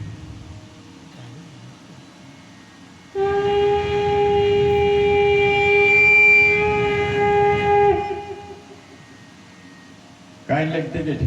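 A pakhawaj drum is played to imitate a railway train. It builds to a loud, sustained train-like passage with a whistle-like ringing tone in the middle, and voices can be heard before and after.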